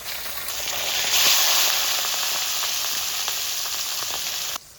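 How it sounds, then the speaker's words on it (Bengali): Fish sizzling steadily in hot oil in a pan, a dense crackling hiss with scattered pops, fairly close and loud, running continuously with no talking before cutting off abruptly at the end. "মাছগুলো প্রথমে ভেজে নিচ্ছি, ভেজে নিয়ে তারপর তরকারি রান্না শুরু করবো।"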